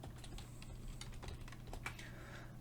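Rapid typing on a computer keyboard, a quick irregular patter of light key clicks close to the microphone, faint overall and with no talking.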